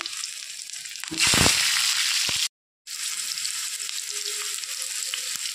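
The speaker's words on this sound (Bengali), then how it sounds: "তেলটা গরম হয়ে গেছে, তেলের মধ্যে এখন আলুটা দিয়ে দিচ্ছি।" Potatoes dropped into hot mustard oil in a heated kadai burst into a loud, steady sizzle. The frying crackles on evenly and alone, broken only by one brief silent gap.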